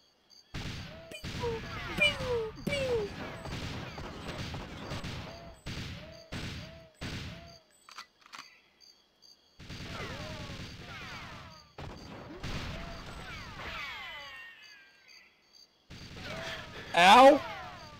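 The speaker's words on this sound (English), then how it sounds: "Whoop, that's a turret." Turret gunfire and other weapon fire rattle in bursts during GoldenEye 007 on Nintendo Switch, mixed with game sounds and a voice talking over it, ending in a louder blast.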